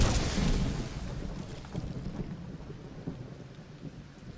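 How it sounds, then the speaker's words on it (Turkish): Thunder and heavy rain from a lightning storm in the video game Lego Fortnite: a loud crack fading into rolling rumble over a dense, steady hiss of rain, with no voices. "Yani yıldırım bayağı bayağı pis vuruyor ha."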